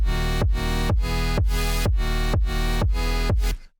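Plain synth chords for tech house, with no shaper effect, repeat in an even rhythm, about seven identical stabs with brief gaps, loud and dry, ending abruptly.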